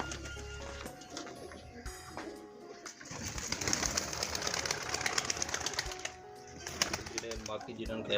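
Pigeons of various breeds coo and flutter nearby on a farm in a village near Faisalabad, among background chatter, with wing flaps and soft, repeated cooing over a busy, noisy space.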